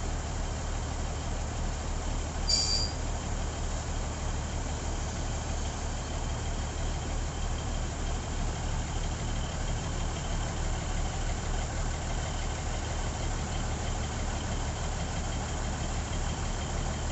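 A short train hauling nine cars at Huai Koeng siding in Thailand, a steady low engine rumble idling continuously throughout, with a brief faint high tone early on.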